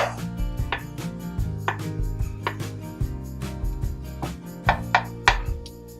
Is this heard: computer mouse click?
no